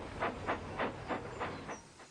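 A steam tram engine in the Trainz train simulator chuffs away with about seven evenly spaced hissing puffs, steady and fairly close, slowing slightly and fading at the end.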